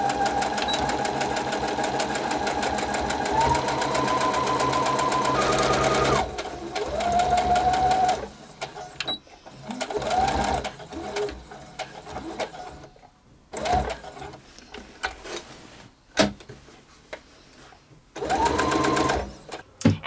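Sewing machine running a straight 5/8-inch seam around a curtain panel for a faux Roman shade, a loud steady whir in long bursts that break into shorter stop-start runs.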